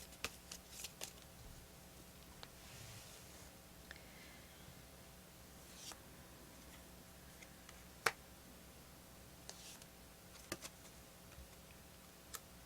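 Tarot cards are shuffled and drawn with faint papery flicks and occasional soft taps over a low steady hum, quiet and close with no talking.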